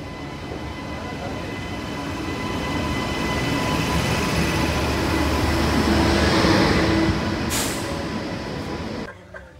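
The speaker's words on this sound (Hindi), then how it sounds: "हम लोग अभी ट्रेन में पहुंच चुके हैं" Inside a moving Amrit Bharat Express train in India, a continuous low rumble of wheels and carriage noise rises and holds steady, with rattling and a brief sharp burst near the end before it drops away.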